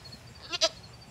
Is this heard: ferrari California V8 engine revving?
no